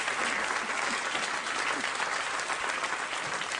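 Steady, full applause from a television talk show's studio audience, many hands clapping together in a dense unbroken roar, loud and close throughout with only faint murmurs underneath.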